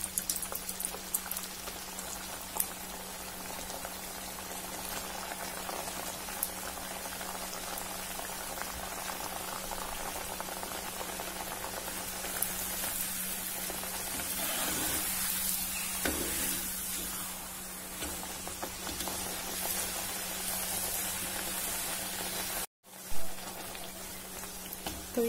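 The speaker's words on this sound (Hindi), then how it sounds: "इसी तरह दूसरी पूरियां भी फ्राई कर लेंगे।" Bottle gourd puris deep-fry in hot oil with a dense, steady bubbling hiss and crackle that holds close and even throughout, broken by a brief dropout near the end.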